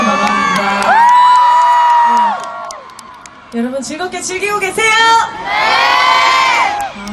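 A large K-pop festival crowd at an outdoor concert in Busan screams and cheers in loud swelling waves, with a voice on the PA speaking between bursts.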